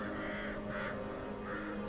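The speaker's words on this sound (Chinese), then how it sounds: "突然乌鸦入屋，会不会是不祥之兆？" A crow flying into a house caws in three harsh, close, fairly loud calls spaced about half a second apart over a steady background hum.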